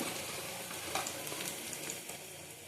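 Ginger and garlic fry with onion in a pan, giving a soft, even sizzle with a few faint stirring scrapes, quiet and without voices.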